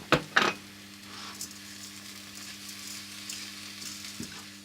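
Chicken and mushroom risotto, rice frying in oil in a pan, gives off a steady close sizzle, with a couple of sharp utensil clanks near the start and no voices.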